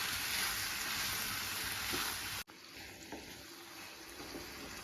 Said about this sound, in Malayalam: ഇപ്പം നന്നായിട്ട് ഇളക്കി കൊടുക്കാം